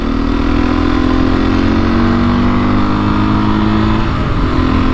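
Beta motorcycle on a street ride, its engine holding a steady, loud mid-pitched drone close up with slight variations in revs and no talk.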